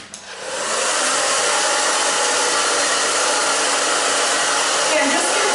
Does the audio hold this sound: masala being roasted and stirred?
no